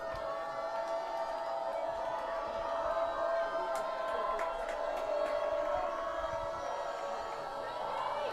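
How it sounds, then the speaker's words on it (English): A home Cardinal crowd roars at a high school football game, Cambridge at Marshall, as a steady, loud wall of cheering and chatter holds throughout with a few shouts and whistles rising briefly above it. "Cardinal crowd getting loud here."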